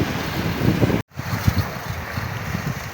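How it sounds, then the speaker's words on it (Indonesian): Strong wind gusting at sea beside a boat in rough water with big waves, a steady roar of buffeting wind noise across the microphone, briefly cut off before resuming, with no talking. "Angin kencang jadi ombak gede."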